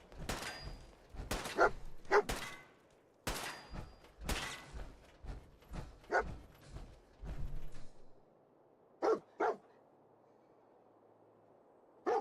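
Dogmeat the dog from Fallout 4 barks in short bursts, several sharp yelps close by in the first eight seconds, then two brief barks after a quiet gap, with game thumps and creaks around them.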